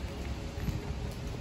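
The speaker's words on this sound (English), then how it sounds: "So it's raining here." Steady rain falls outside in Hawaii, an even hiss of drops on surfaces with no break, moderately loud and without voices.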